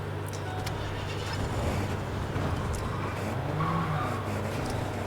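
Cars driven in a video game escape room set in Tokyo, with a steady engine drone, tire squeals and skidding running continuously at a moderate level for about five seconds.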